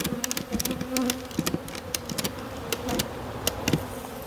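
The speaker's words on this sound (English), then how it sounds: "Thing with me is though, I don't mind feisty bees." Dense insect buzzing from many honeybees close by around an open hive, a steady droning hum with individual wingbeats flicking past the microphone.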